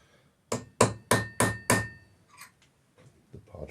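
A hammer drives a center punch into metal with five loud, steady strikes that ring briefly. Some quieter handling knocks and clicks follow close by in a workshop.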